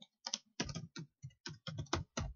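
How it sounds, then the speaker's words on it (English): Fingers typing code on a computer keyboard, about ten quick distinct key clacks in an uneven rhythm, close and fairly quiet with no talking. "you need to type in var"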